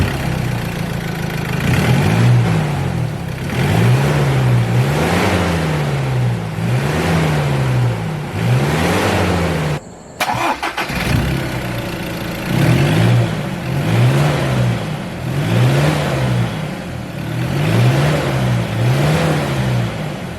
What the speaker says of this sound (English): You can really hear the turbo start spooling up.